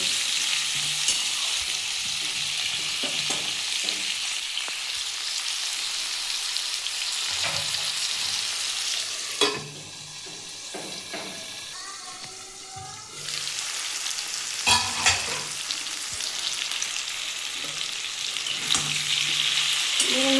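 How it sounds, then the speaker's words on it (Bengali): Potatoes frying in a pan for a papaya and prawn curry give a continuous close sizzle with stirring and spatula scrapes, a brief drop and a burst of clatter midway, then the sizzle resumes. "আমার আলুটা অনেকটাই ভাজা হয়ে গেছে"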